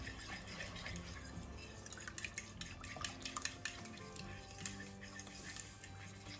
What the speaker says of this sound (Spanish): Mezclamos esto bien. Vamos agregando el azúcar.